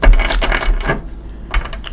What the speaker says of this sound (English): I do like to give it a shuffle or two with you here